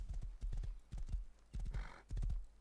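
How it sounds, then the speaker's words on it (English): Horse hooves clip-clop steadily and close in the game Rust, a regular rhythmic pattern of hoof strikes on the ground. "I found a horse, which I rode over the hills and far away"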